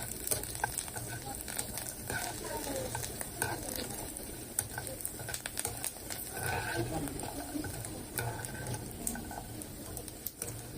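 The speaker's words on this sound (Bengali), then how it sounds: "তো চিপগুলো কিন্তু আমার ভাজা হয়ে গেছে" Chips fry in oil, a low, continuous crackling sizzle with frequent stirring clicks and scrapes throughout.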